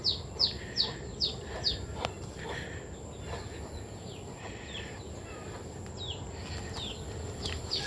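Native chickens and Cornish bantams in an open yard among native trees, with faint repeated bird chirps in the first few seconds over a steady outdoor background hiss.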